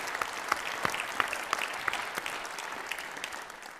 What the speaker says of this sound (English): Applause for Director Magnificus.